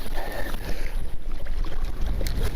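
Wind buffets the microphone steadily and loudly on a winter fishing outing, a rough broadband rush that gusts and swells without pause and with no talk over it.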